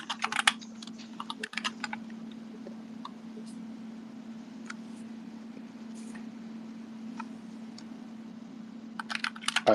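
Fast, light tapping on a computer keyboard during an online call, quiet and fairly distant, running almost continuously over a steady hum, with denser flurries of keystrokes at the start and end.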